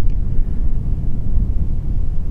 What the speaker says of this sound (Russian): Там ветрище.